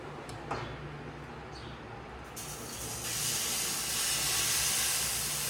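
Sweet pudla batter hitting oil on a hot griddle, a few faint clicks followed by a steady hiss that swells louder and stays loud and continuous to the end.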